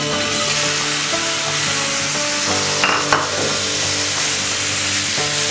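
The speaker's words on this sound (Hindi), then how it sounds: "ये हमारे पास मैरिनेट कीवी चिकन है। इसमें हमें कोई ऑयल नहीं डालना, कुछ भी नहीं डालना, एज इट इज़ आपने इसको फ्राई पैन में डालना है।" Marinated chicken fries in a pan with no added oil, giving a loud, continuous sizzle with stirring and scraping throughout and a brief louder burst about midway.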